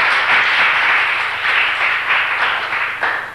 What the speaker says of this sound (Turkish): Ümit ve Engin hemen alkışlanıyorlar